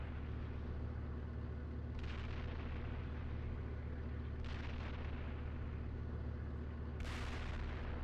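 Distant artillery shells landing in the tank simulator Steel Beasts, three muffled broadband booms spaced a few seconds apart over a steady low engine drone.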